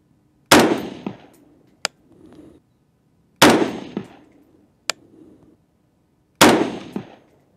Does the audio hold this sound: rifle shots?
yes